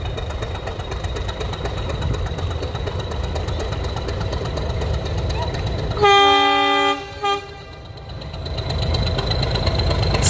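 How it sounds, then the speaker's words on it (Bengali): A toy train at Lovedale station rumbles steadily on its track, then sounds one loud, harmonic horn blast with a short second toot before the engine noise returns. "টয় ট্রেনটা আমি আলাদা করে অ্যাড করে দিচ্ছি তোমাদের এই ব্লগে।"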